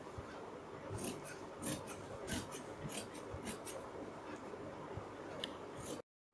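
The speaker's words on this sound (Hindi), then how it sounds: "और इसके बाद हम थोड़ा बाहर से चारों तरफ से इसकी कटिंग करते हैं इसी शेप में।" Scissors snip and slide steadily through fabric and stiff buckram, cutting around a kurti neck shape; close, repeated crisp cuts over a soft rustling background, ending in a brief silence.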